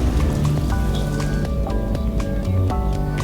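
A water balloon smashes and splatters in the video game Donut County, giving wet drips and splashes over a steady bed of game music and sound effects.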